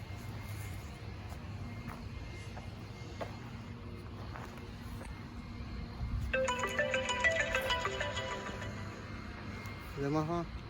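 A mobile phone ringtone rings out in a dense, repeating electronic pattern over steady outdoor background noise, starting partway through and lasting several seconds before cutting off, during brick-leveling work on a curb project.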